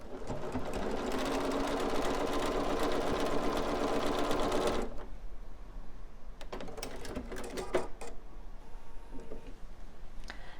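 A sewing machine stitches steadily along a mitered corner seam for about five seconds, then stops, leaving quieter handling noises and a few short bursts of stitching.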